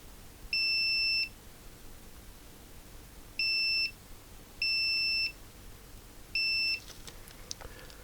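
A continuity tester beeps while probing an Atari 65XE keyboard, giving four clear, steady high tones of roughly half to three-quarters of a second each, separated by short irregular gaps, close and loud against quiet handling noise.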